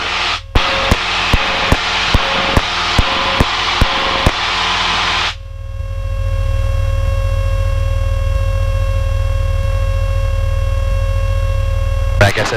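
Cessna light airplane engine droning steadily during a night climb, heard from inside the cockpit; a loud continuous hum with sharp rhythmic clicks over the first five seconds, then a smoother, steady engine tone with a sustained whine.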